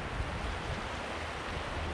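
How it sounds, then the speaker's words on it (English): Lake water blown by wind laps against rocks by an alpine lakeshore in New Zealand, a steady low wash of small waves with breezy rumble, continuous and fairly close, no voices. "The water's just blowing in and lapping against all the rocks."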